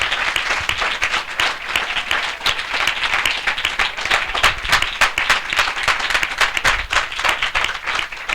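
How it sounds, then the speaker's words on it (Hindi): Loud, sustained applause fills a faith assembly hall, dense clapping from a large crowd continuing steadily throughout without pause or speech. "हम जोरदार ताली से उनका स्वागत करें"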